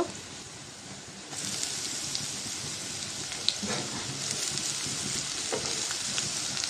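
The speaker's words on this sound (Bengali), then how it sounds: "পেঁয়াজটা ভাজা হয়েছে, চিচিঙ্গা দিয়ে দিব।" Ridge gourd goes into a pan of fried onion with a soft clatter, and after about a second a louder, denser sizzle of frying takes over and continues steadily with occasional crackles.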